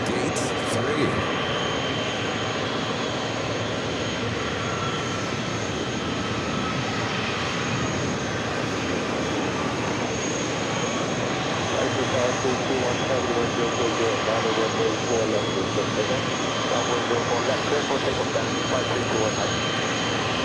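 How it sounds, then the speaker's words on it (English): An Air India Boeing 777-300ER taxis to its gate at New York's JFK airport, a continuous moderate jet engine whine and rumble that stays steady, rising slightly in the latter half. "This Air India 777-300ER flight heading"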